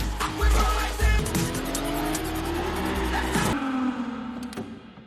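Sports cars racing in a heist chase through city streets in Fast Five, engines roaring loudly with tires squealing and skidding, then thumps of impact before the sound fades out.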